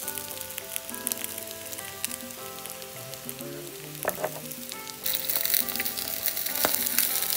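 Chicken, potatoes and onions sizzle steadily in a frying pan, a continuous crackling hiss that grows louder near the end, with music playing in the background.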